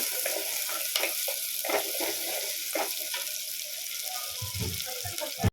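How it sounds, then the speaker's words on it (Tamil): Onions sizzle steadily in hot oil, close up, with occasional scraping and stirring clicks from a utensil. "சேர்த்து நல்லா எண்ணெயில் ஒரு வாடி வதக்கி விட்டுக்கலாம்"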